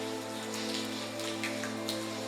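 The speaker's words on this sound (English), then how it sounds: "It's still raining." Steady rain falls in the point-and-click adventure game Lucy Dreaming, a continuous soft patter with a few brighter drop ticks over a low constant background hum, with no voices.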